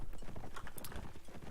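Horse hooves clip-clop in a multiplayer medieval combat video game match, a quick irregular run of close, fairly loud hoofbeats with no talk over them.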